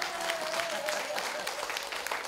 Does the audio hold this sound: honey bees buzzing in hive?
no